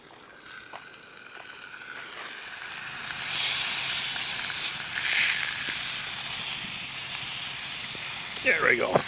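Pork chops sizzling in a cast iron pan over a campfire, a soft steady hiss that swells as meat hits the hot pan, with faint clinks and brief rustling near the end.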